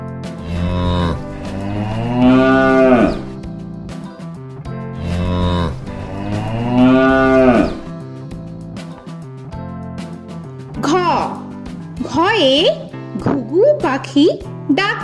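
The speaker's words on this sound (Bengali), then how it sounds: "গয়ে গরু বাছুর দাঁড়িয়ে আছে" A cow and calf moo in two long, loud, drawn-out calls, followed by lighter animated voices and music-like tones.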